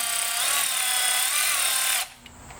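Power tool whirring loudly and steadily while undoing 10 mm bolts on the brake lines of a 2015 Jeep Cherokee KL, running for about two seconds before cutting off abruptly.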